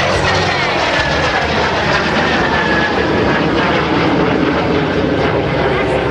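MS760 jets roar past at the 2010 Boston Portsmouth Airshow, producing a loud, steady, broadband engine rush that fills the whole stretch, with faint voices beneath the noise.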